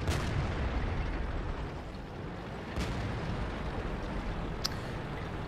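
Tank cannons fire in a heavy-tank video game set on a ruined city map, with a few muffled booms set against a constant low battle rumble and one sharp crack near the end.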